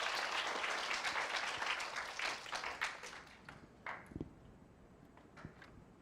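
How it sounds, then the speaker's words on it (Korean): Audience applause at a youth concert event, a dense, loud burst of clapping that thins out into scattered claps and fades near the end. "다시 한번 큰 박수 부탁드릴게요."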